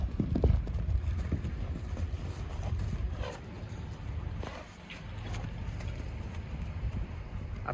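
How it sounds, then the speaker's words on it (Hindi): Horses walking at an easy pace, hooves clip-clopping in an irregular rhythm close by, with wind rumble across the microphone and a short faint voice. "आज मैं ये दिखा रहा हूँ कितना आराम से जानवर चल रहे हैं, घूम रहे हैं, फिर रहे हैं।"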